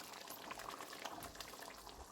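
Shark fish curry (sura kulambu) gravy bubbling at a boil in a pot, a dense, continuous wet burble and popping, close and steady.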